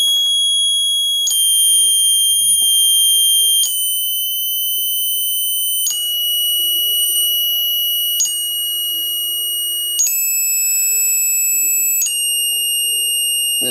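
Piezo element driven by a frequency output, giving a loud, piercing high-pitched tone that steps between several steady pitches every couple of seconds, close with no talking.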